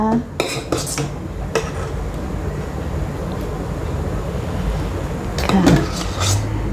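A metal cooking pot for Thai taro tako dessert sitting in hot water is handled, giving a few sharp clanks near the start and again near the end over a steady background hiss.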